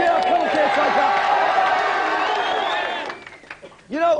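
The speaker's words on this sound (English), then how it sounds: "give them a cheer, eh?" Studio audience at a televised video game team championship final cheering and clapping loudly for several seconds before fading, with a voice briefly cutting in at the end.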